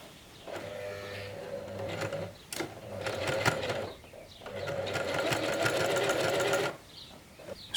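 A sewing machine runs in two bursts of rapid, even stitching, double-stitching the pocket diagonals on climbing pants, with a short quiet pause between runs.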